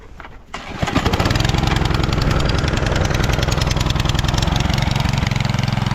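A lawn mower engine coughs into life after a brief start-up, then runs loud and close at a steady, even idle-like drone throughout, with no talk.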